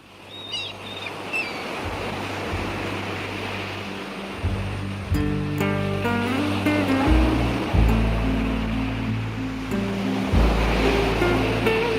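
Sea waves and surf wash continuously along a Portuguese coast, a steady roar that swells louder toward the end, with no voices.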